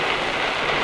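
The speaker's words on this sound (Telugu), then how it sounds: "చినుకులు బాగా పడుతున్నాయి" Steady rain pours down, a dense, even hiss of drops hitting a surface with no pauses or voices.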